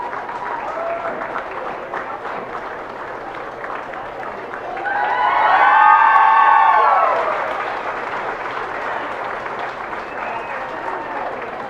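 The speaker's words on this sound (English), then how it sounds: "I hope everybody gives these two the big round of applause they deserve." Audience applause at a 4-H and FFA beef showmanship and steer show, a steady wash of clapping that swells for a few seconds mid-clip, with crowd noise and a voice over a PA around it.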